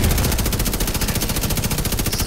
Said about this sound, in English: why the fuck these dudes keep shooting at me?